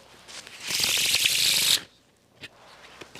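A deck of playing cards, somewhat old, is shuffled in one continuous riffle lasting about a second, a dense close-up crackle that stops abruptly, followed by a few faint handling taps.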